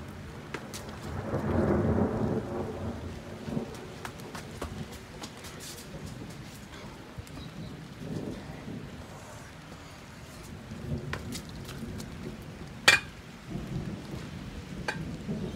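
A massive thunderstorm over St Leonards: a deep, loud rumble of thunder swells early, then steady rain patters with scattered drip hits and a sharp crack near the end.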